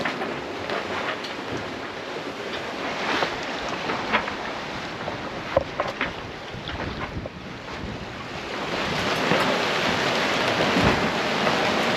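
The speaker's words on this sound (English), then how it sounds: "Another squall, more rain." Rain squall sweeping over an ocean-sailing catamaran at sea, a steady broadband hiss of rain and wind with wave wash, swelling louder toward the end, with no talking.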